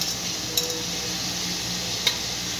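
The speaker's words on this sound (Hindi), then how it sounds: "ये प्याज जो हमने काटा है इसको डालेंगे" Chopped onion and garlic go into a hot pan and are stirred, giving a steady, even sizzle with two faint spoon clicks against the metal.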